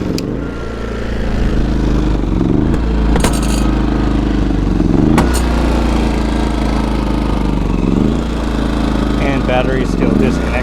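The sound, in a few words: gas generator engine running without batteries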